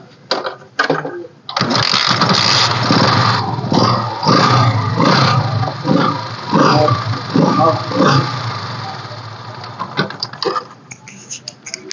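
A 2014 Yamaha FZS motorcycle, which has both kick and electric start, starts up and runs. The engine sound rises and pulses for several seconds, partly under someone talking nearby.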